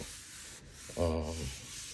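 Paper pressed against a gel printing plate is rubbed by hand, giving a soft, close, scratchy friction of about half a second over a quiet background.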